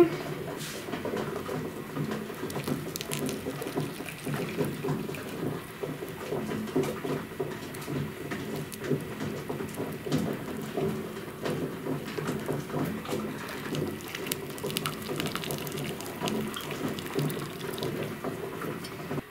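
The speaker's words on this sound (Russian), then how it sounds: "Закипела моя водичка. Буду заливать банки." Boiling water poured into canning jars for preserving tomatoes, zucchini and cucumbers: a steady, close splashing and gurgling pour that runs without a break, with faint voices in the background.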